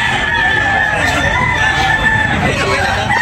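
Roosters crowing at a chicken market in Tabunok, Talisay, Cebu, loud overlapping crows and clucks from several birds close by, filling the whole stretch amid crowd noise.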